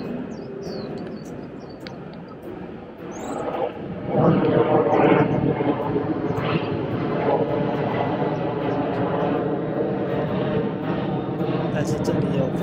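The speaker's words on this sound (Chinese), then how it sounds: "但是这里有飞机呀" An airplane passing overhead near an artificial lake in a residential area of Haicang, Xiamen, its broad engine roar swelling after a few seconds and holding steady and loud throughout.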